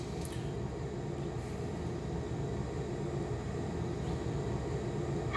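Airplane climbing after takeoff on a Janet flight, a steady, even broadband engine and airflow roar heard from inside the cabin, with no talking.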